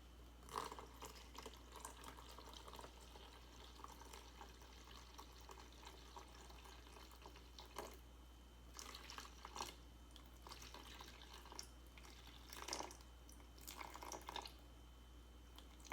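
Room-temperature water running into a bowl for sourdough dough gives a faint trickling, splashing flow with a few brighter spatters and drips against a low steady hum, quiet and close.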